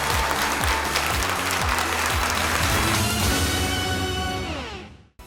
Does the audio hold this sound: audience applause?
yes